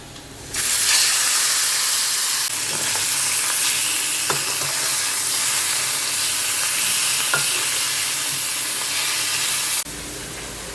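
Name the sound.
frying in oily kadai for parshe fish curry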